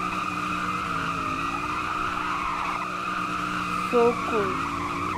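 A car in the Southwest Florida driving game drifts with a sustained tire squeal over a steady, loud engine drone, and a person briefly speaks near the end.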